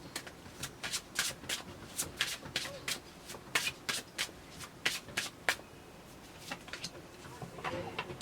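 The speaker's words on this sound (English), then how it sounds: "I will just draw one card." Playing cards being shuffled and drawn for a pick-a-card reading, a run of quick, crisp riffling bursts and slaps close by, fairly even in rhythm across the whole stretch, with no talking over them.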